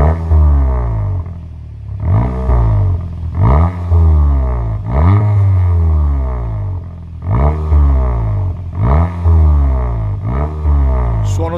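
A 2018 VW Golf 7.5 GTI with a 102 mm Ragazzon exhaust tip is revved repeatedly while parked, with about eight sharp throttle blips rising and falling in a steady rhythm, loud and close, and no talk.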